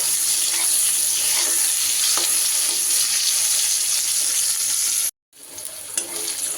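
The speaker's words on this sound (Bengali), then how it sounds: "হাই ফ্লেমে ভেজে নিয়েছি বন্ধুরা।" Eggplant slices fry in oil over a high flame, giving a loud, dense and continuous sizzle up close that cuts out abruptly for a moment, then returns more softly with a few faint clicks.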